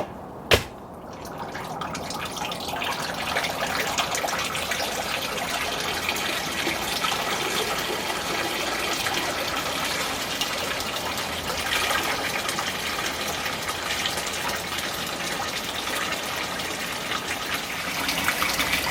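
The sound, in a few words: garden pond waterfall turned on, water gushing and splashing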